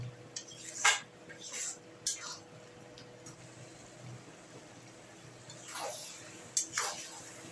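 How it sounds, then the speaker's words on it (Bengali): Chicken with spices stirred in a pan, giving intermittent scraping clinks of a utensil against the metal at a slow, uneven pace, fairly faint over a soft background hum with a quiet voice in the clip. "এটাকে হালকা হাতে এবার নেড়ে চেড়ে এটাকে আস্তে আস্তে কষতে নিতে হবে"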